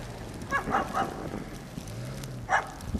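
A dog on a city street in Hamilton's Corktown district in winter gives a few short, sharp barks and yips, mid-distance, over quiet street ambience.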